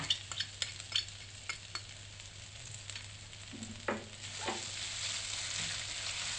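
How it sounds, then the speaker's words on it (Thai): Pounded garlic, pepper and coriander root stir-fried in hot oil. Sharp spatula scrapes and clinks come first, then a steady sizzle builds and continues to the end. "ใส่กระเทียมพริกไทยรากผักชี โขลกลงไปค่ะ ผัดให้หอมค่ะ"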